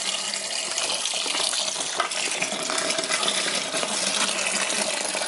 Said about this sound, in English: And then we're going to stir it vigorously.